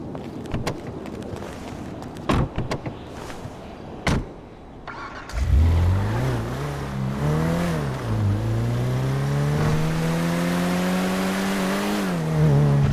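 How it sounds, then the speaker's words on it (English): A car in Grand Theft Auto V starts up after a few door and handling thuds, then its engine drones and revs loudly, rising and shifting pitch as it pulls away and keeps driving steadily. "Shumash, you're driving."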